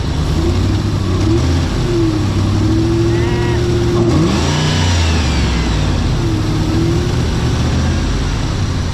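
A car engine idles loudly up close, then revs up and settles several times, the pitch climbing and dropping with each rev.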